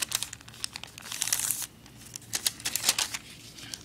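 Paper crinkles and creases in a rapid run of close, crisp rustles and brief sharp snaps as it is folded into a hexagon shape, with no voices.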